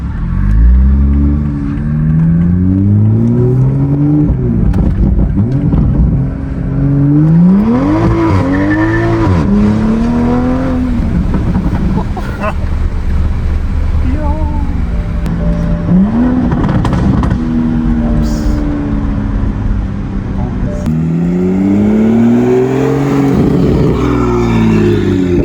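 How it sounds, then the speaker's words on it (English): A 2023 Toyota Supra, rebuilt after being wrecked, burbles and revs hard while driving, its loud engine note sweeping up and down through several throttle pulls with crackling burble on lift-off, close and dominant, no talk heard. "How does a car burble that much stock?"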